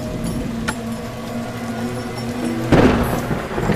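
Cartoon storm sounds of steady heavy rain and a low rumbling wash of thunder, with a louder crack of thunder swelling near the end, heard alone without talk.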